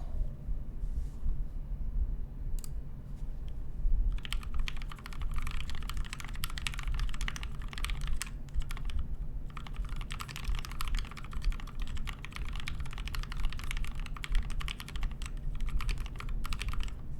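Fast, steady typing on a TMO50v2 mechanical keyboard fitted with Deskeys switch films, a polycarbonate plate and milkshake keycaps. Crisp, close key clacks run continuously, with a few brief pauses.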